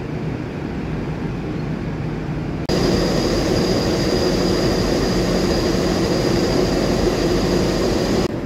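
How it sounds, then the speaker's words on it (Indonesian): Argo Wilis express train passing straight through Gombong station, a loud continuous rail roar and rumble that swells abruptly after about three seconds and holds steady with a faint high whine. "di depan sini nanti akan melintas kereta api Argo Wilis dari stasiun Bandung tujuan akhir stasiun Surabaya Gubeng"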